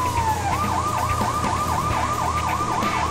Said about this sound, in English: I'm gonna turn the siren off though,